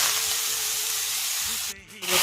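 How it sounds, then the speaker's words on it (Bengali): Eggplant and leafy greens fry in a hot pan with a steady, close sizzling hiss that dips briefly near the end and then returns, while a person speaks over it. "এবার বেগুনগুলো দিয়ে দিচ্ছি, এগুলো ভাজা হচ্ছে"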